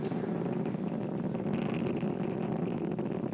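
A SpaceX Falcon 9 first stage's engines roar during ascent on a crewed launch, heard as a dense, steady, unbroken rumble with faint crackle throughout the few seconds and no talking.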